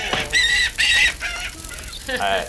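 Squawking creature effect, a dinosaur emerging through a trapdoor in an attraction, plays as several loud, close, bird-like squawks in quick bursts over a low rumble.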